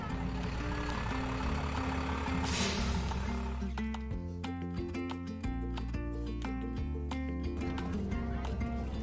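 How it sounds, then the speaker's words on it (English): A school bus pulls up at a middle school with a low engine rumble and a burst of air-brake hiss, followed by steady mechanical tones and a rhythmic pattern that may be music playing underneath. "here comes the bus"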